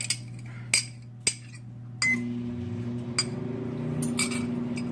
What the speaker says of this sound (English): we're going to mix this egg in here, and then we're going to put it in a larger bowl